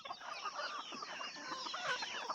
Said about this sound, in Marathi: बघू शकताय आपल्या प्युअर गावरान कोंबड्या